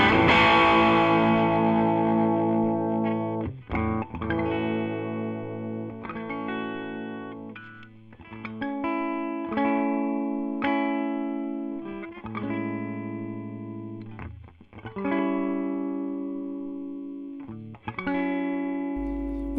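An electric guitar plays through a Peavey Transtube amp pushed into breakup, with a series of sustained, slightly distorted chords and notes struck one after another, loud and close with no talking.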